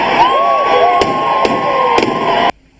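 Fireworks bursting at a church New Year 2020 celebration with thousands of people: four sharp bangs ring out over loud, continuous crowd cheering and shouting before the sound cuts off abruptly.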